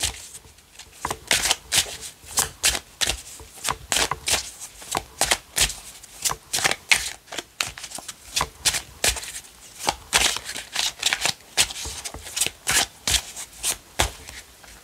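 Oracle cards are shuffled by hand before a draw, making a long run of quick, crisp riffling bursts in an uneven rhythm. They are close and clear, with no voices.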